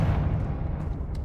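A Confringo blasting spell exploding in Hogwarts Legacy, a single deep, close boom that decays into a rumbling tail.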